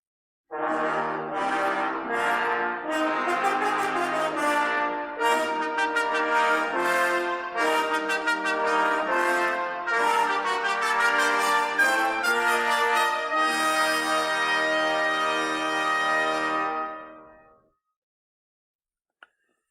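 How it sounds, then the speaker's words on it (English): A full brass ensemble plays a sustained, swelling chordal passage, loud and rich, then fades out into silence near the end. "Together, the brass section sounds like this."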